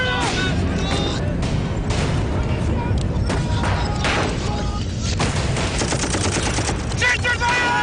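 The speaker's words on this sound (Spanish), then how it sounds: "de pronto empezaron a sonar disparos, una emboscada" Dense, continuous gunfire from a desert ambush among dunes, rapid bursts and loud cracks with occasional booms, layered with dramatic background music and no pauses.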